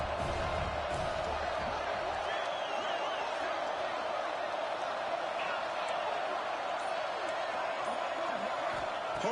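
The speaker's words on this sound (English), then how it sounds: "Home crowd trying to make a difference on 4th down." Stadium home crowd in the College Football 26 video game during a fourth-down play between Georgia and Miami, a dense, steady roar of many voices that stays loud throughout.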